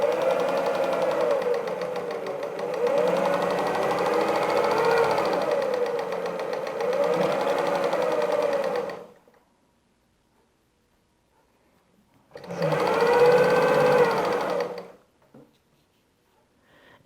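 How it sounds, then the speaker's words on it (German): A sewing machine stitches a Windspiel patchwork block, humming loudly and steadily for about nine seconds, falling silent for several seconds, then running again in a shorter burst, close up with no talking. "Ich nähe gerne einmal nur bis zur Mitte, nehme das Ganze heraus"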